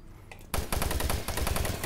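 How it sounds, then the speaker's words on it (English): Enemy gunfire in the Doom 3 video game: after a brief faint sound, a loud rapid automatic burst of shots rattles steadily to the end, close and dominant. "Just stop shooting at me."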